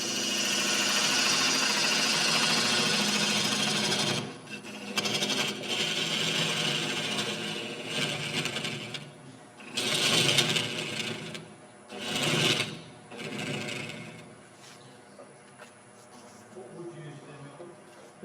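A wood lathe turns a Cedar of Lebanon bowl with a steady, whining motor hum, broken by repeated bursts of tool cutting as the bevel rubs.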